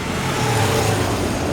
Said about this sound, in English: traffic and a lot of motorcycles here.